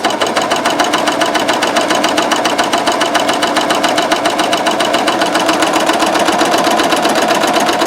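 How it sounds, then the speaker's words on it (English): A Janome CoverPro 3000 coverstitch sewing machine runs steadily at close range, its fast, even needle clatter holding a constant rhythm throughout with no talk over it. "You hear how nice and quiet it sews? It feeds so smooth."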